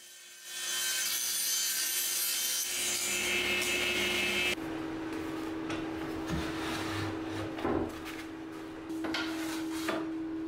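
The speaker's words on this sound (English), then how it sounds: "So now I'm going to give them a sand down, rip them down the centre, and then get them cross cut into little pieces." Thin wood pieces are sanded with a loud, hissing rasp, then sawn with rougher grinding strokes and knocks from handling the workpiece, all close and with no talking.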